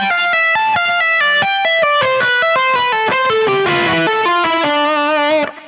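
A distorted electric guitar plays a fast tapping run, dense rapid notes climbing and falling with effects-laden sustain, loud and continuous with no talking.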